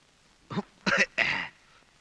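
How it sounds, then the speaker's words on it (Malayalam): Three short, raspy coughs in quick succession, close up, against a quiet background. "എന്താ ഒരു കണിയാന്റെ ചുമ?"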